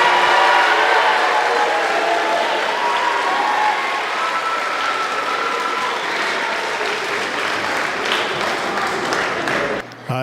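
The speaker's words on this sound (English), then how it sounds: "The kids applauded louder for him than they did for me." A middle school band concert audience in Hebron, Indiana applauds loudly and continuously, the dense clapping tapering slightly before breaking off near the end.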